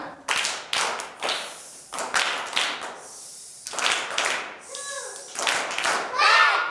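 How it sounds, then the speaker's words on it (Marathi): Children clap their hands together in a series of quick, bright bursts, several rounds of tapping claps close by, with a voice briefly heard between them. "आपण सगळ्यांसाठी एकदा टाळ्या वाजवूया"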